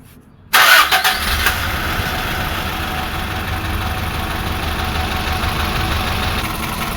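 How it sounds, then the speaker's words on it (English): A 1995 Suzuki Escudo starts after a brief silence with a loud, sudden catch of the engine, then settles into a steady, rumbling idle that continues to the end. "All right, start the car."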